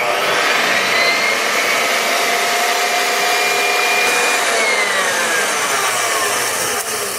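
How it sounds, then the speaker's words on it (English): An electric mixer whips egg whites for meringue, a loud, steady whine that holds constant and close, with no talking. "I know this machine makes a lot of noise, but you can see my egg whites have started to foam"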